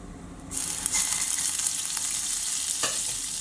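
A small amount of butter, about a quarter teaspoon, begins sizzling in a pan for momo sauce. A bright hiss starts suddenly and holds steady, with one brief knock partway through.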